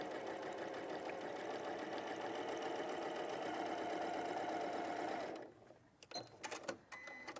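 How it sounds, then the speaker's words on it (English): A sewing machine runs steadily for about five seconds as it stitches across fabric, a close, even mechanical whir that stops abruptly, followed by a few light clicks and handling noises. "So I'll just stitch across there."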